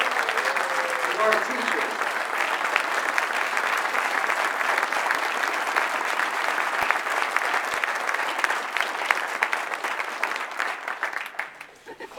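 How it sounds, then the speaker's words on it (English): Sustained applause from a crowd at a political event in Albuquerque honoring public school teachers, steady and dense for about twelve seconds, with a brief spoken line near the start and the clapping thinning toward the end. "we deserve to give them a round of applause."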